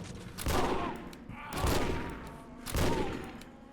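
Three loud, spaced gunshot bursts from the game Condemned: Criminal Origins, each a broad crack with a ringing tail, arriving about a second apart with no talk over them.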